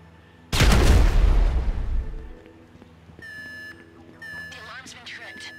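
Loud explosion in Grand Theft Auto V gameplay, a sharp burst with a long rumbling decay, followed by electronic game beeps and tones as people talk.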